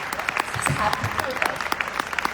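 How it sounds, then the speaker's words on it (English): Applause from a live audience at a Shilpa Shetty event, a fairly close rush of clapping with distinct hand claps standing out, while a voice speaks over it. "Come on everyone, let's have a round of applause."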